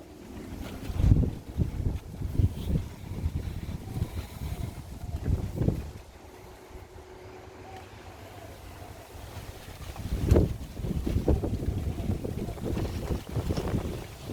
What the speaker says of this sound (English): It's windy. Windy Melbourne.